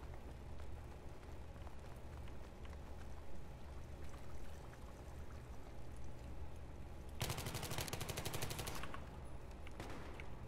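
Dense automatic gunfire in Battlefield 3 rattles steadily, with a sharp, louder burst of rapid shots near the end, amid constant combat din.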